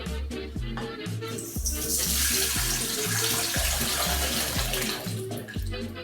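Liquid pours steadily like tap water, a continuous close rushing wash that swells in the middle and holds for the whole stretch over a faint repeating background beat.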